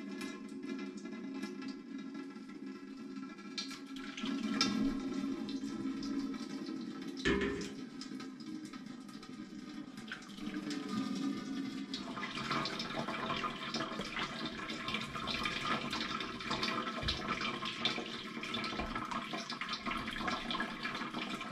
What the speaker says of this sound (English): this will keep all the solid matter and all the liquid will drip through into the pan